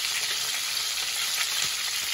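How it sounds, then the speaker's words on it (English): Butter beans frying in olive oil in a paella pan, a dense, even, continuous sizzle heard up close with no voices. "Now we'll put in the butter beans."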